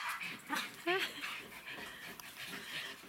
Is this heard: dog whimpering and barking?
yes